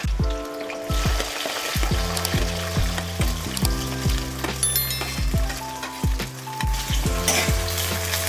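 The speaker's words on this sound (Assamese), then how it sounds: "প্ৰথমতে মই পিয়াজখিনি দিম পিয়াজখিনি অলপ লৰাই দি পেলাই বাকি সবজিখিনি দি দিম" Onions fry in hot oil for chicken fried rice, a loud, steady sizzle with regular clacks and scrapes of stirring close by. A sustained musical tone runs underneath, and no one talks.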